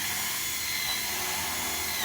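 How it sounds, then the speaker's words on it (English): A screw gun whines steadily while driving Tek screws into a Colorbond steel louvre slat fence rail, a continuous close, loud motor buzz with no pauses. "get your gun with a few Tek screws, and you just put one in on this side"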